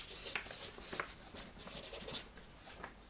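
Several pens scratching and tapping on paper up close, quiet irregular strokes as a group jots down estimates, with no voices over it.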